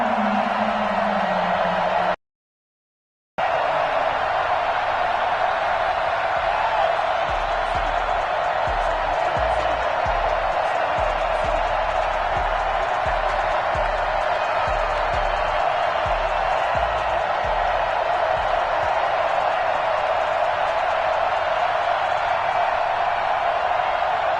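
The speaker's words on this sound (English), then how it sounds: "The Dolphins starters were introduced to this home crowd. They're fired up as well as they get set to match up with the Cleveland Browns." Home crowd roaring in a Madden NFL 21 stadium as Miami Dolphins starters take the field against the Cleveland Browns, a dense, steady wall of cheering that holds throughout, broken only by a brief cut near the start.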